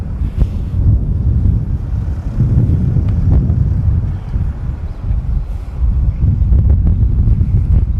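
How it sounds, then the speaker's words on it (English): Wind buffeting a microphone during a walk on local streets in Setagaya, Tokyo: a loud, low rumbling roar in gusty surges that swell and ease for several seconds, with no talking. "Here it's pretty windy."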